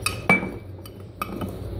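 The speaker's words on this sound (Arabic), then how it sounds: "هقلبهم كويس جدا مع بعض" A spoon clinks sharply against a bowl while stirring flour and sugar, then scrapes and taps a few more times close by.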